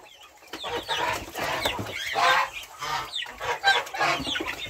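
Free-range chicks on a farm chirp and cheep in a busy, overlapping chorus, a steady stream of high, fairly close peeps filling the whole stretch.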